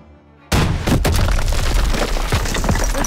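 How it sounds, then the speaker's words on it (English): A launcher explosion in a WWII Call of Duty game erupts suddenly out of near-silence as a loud, close boom. A few sharper cracks follow, and the roar and rumble go on for the remaining seconds. "Use your launcher to clear a path."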